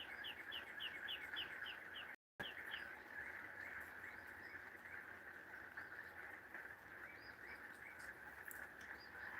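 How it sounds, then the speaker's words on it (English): A blackbird sings outdoors on a rainy day, a quick series of bright repeated chirps near the start followed by fainter scattered calls over a steady background hiss of rain. "You hear that blackbird?"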